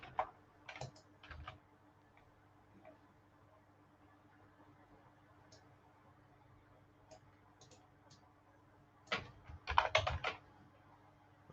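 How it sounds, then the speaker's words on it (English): Computer keyboard typing with Alt and arrow keys, quiet scattered clicks early on, then a denser close burst of keystrokes near the end over faint background hum. "I'm moving the lines around with the Alt and the arrow keys."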